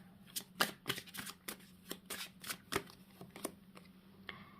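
Tarot cards are shuffled by hand in a quiet room, a quick run of crisp riffling snaps and soft slaps, close and fairly quiet, with a faint steady hum behind.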